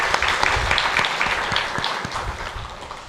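A church congregation at a Sunday service applauds its cell leaders, a dense wash of clapping that holds strong and then slowly tapers off.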